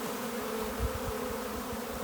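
Honey bees buzzing in a dense, steady drone as they are put into the hive, close and continuous with no voices.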